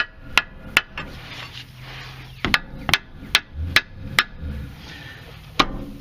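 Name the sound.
hammering under a car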